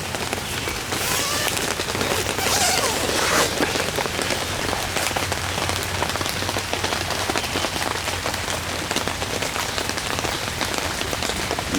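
Heavy rain pouring on a flooded yard and camping tents, a dense continuous hiss and patter with close drops drumming on fabric, steady throughout with no talking.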